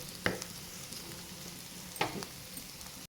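Cooked paneer roll filling being mixed in a pan on the stove, a quiet low hiss with two distinct spoon scrapes against the pan and faint clinks, with no speech.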